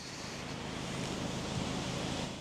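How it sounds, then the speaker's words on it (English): Strong wind roars steadily into the microphone, a constant broadband rush with low rumbling buffets and no pauses. "windy out here today, it's blowing a gale."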